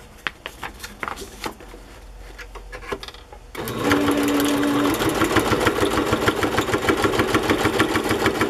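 A domestic sewing machine runs a straight stitch on a small piece of fabric: a few hesitant taps first, then a loud, steady rapid needle chatter with a motor hum that carries on to the end.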